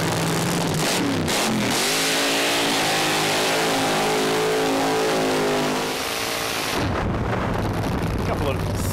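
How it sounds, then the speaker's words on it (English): Drag racing cars roar through burnouts, a loud sustained engine drone with rising harmonics that cuts off sharply near the end, leaving fainter noise. "A couple of stout burnouts to kick things off."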